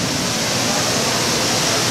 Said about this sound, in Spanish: Did you like the rainstorm?